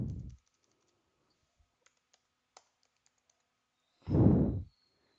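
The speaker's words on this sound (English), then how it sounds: "I am typing here." Sparse, faint key clicks of typing on a computer keyboard, with audible breaths at the start and end.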